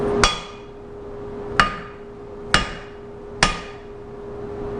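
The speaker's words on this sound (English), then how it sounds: "Get on something solid like this mandrel here and pound it against the bottom, and that'll force the head down just right." A hammer pounds a Keystone drop-forged hammerhead down onto its new handle against a solid mandrel: four sharp, ringing metallic strikes spaced about a second apart, close and clear with no talk.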